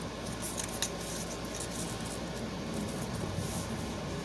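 Scissors snip through poster board as shapes are cut out, giving a quick run of crisp close cuts early on, then quieter scattered snips over a steady background hiss.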